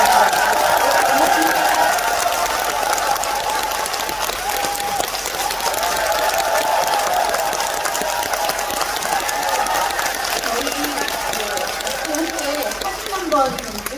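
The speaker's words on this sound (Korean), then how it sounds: "다시 한번 큰 박수 부탁드립니다." A theater audience applauds steadily at the 26th Bucheon International Fantastic Film Festival closing ceremony, a dense continuous clapping that fills the hall from start to finish, with a voice speaking over it.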